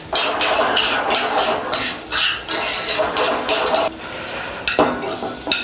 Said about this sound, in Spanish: Echamos el arroz.